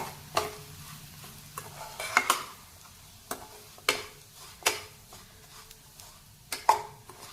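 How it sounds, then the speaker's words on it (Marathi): Roasted semolina being stirred in a pan, a quiet background sizzle broken by about a dozen sharp spoon scrapes and knocks against the metal in an uneven rhythm. "आता हे चांगलं हलवून घेऊ।"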